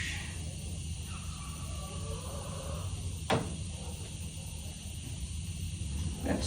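A squeaky bolt turning in a tractor wheel hub gives a thin, drawn-out squeal of metal on metal, heard close up over a steady background hum.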